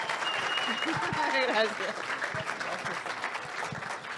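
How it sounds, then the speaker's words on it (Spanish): Audience at a historical talk about Coyoacán applauding a teacher, a steady crowd of clapping lasting several seconds, with a voice speaking briefly over it. "un aplauso para la maestra"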